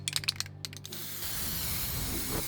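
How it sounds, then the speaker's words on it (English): Metallic spray paint sprayed onto wood: a few short hissing bursts at first, then one continuous steady spray hiss close by, fairly quiet, with no talking. "spray paint the wood with this metallic spray"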